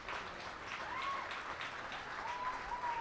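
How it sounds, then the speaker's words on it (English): A crowd at a minor league baseball game between the Reading Fightin Phils and the Bowie Baysox gives steady applause and cheers during a pitching change. The clapping is distant and sustained throughout. "orales gives the ball over to Sean Williams, gets the cheers of the crowd."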